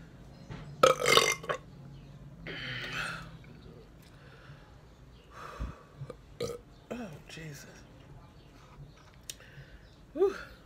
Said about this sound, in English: And I got a burp.